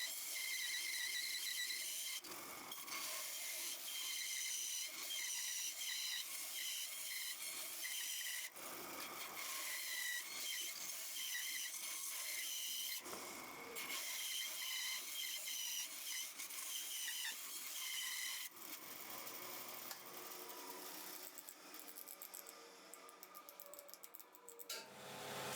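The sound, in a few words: belt sander sanding a wooden box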